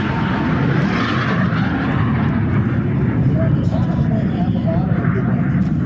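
A MiG-17 jet passes at an air show, its engine a steady broad roar that stays loud and constant throughout, with a voice talking over it.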